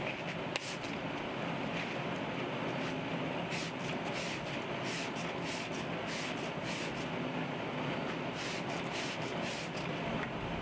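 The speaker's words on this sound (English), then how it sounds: "I'm just gonna go to the backyard and spray it down." Steady hissing spray from a spray bottle misting pre-treatment onto a shirt on a hanger outdoors in a backyard, a continuous close wet hiss running throughout with bursts of brighter spritzing.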